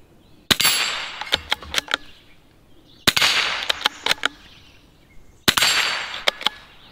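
Shots fired at plate targets, three sharp cracks spaced about two and a half seconds apart, each trailed by several quick metallic pings and clanks of hits, with no talk.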